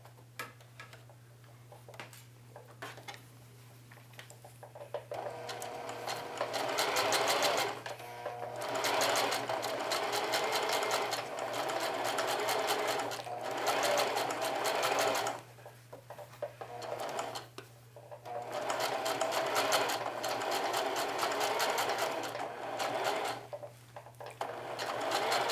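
A sewing machine runs in several bursts of fast, steady stitching on a jeans pocket, separated by short pauses; close and clear, with no voices.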